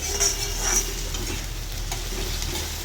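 Crushed garlic-ginger paste is stir-fried fast over a high gas flame for chicken chilli, making a dense, even close-up sizzle with light scraping and a couple of brief high clinks, no voices.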